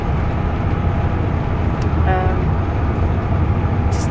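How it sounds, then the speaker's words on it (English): Interior of a moving train bound for London, a steady rumbling rail noise with rattling and a brief squeal, close and continuous, with faint background voices. "We are now on the train going to London"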